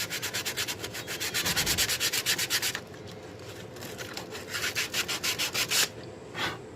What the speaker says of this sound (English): Alright, well, I'm going to keep sanding this.